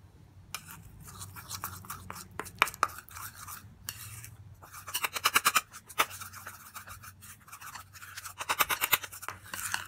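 Tomato paste stirred with honey for a face mask, giving quiet, irregular scraping and clinking in a small bowl, in bursts of rapid strokes with short pauses.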